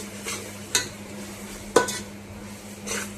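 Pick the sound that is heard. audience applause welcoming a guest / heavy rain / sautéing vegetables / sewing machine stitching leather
sautéing vegetables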